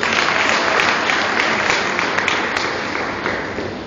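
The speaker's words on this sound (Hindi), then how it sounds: "उनके लिए भी तालियां हो सकती है दोस्तों।" A live audience applauds at a business seminar, the clapping a dense, steady wash that stays loud for the whole stretch and thins only slightly toward the end, with no voices over it.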